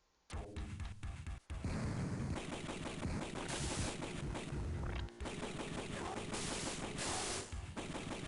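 Rapid bullet fire from the Sega Genesis game Phantom 2040 during a boss fight, a dense, continuous stream of loud shots with short breaks, close and steady with no talking.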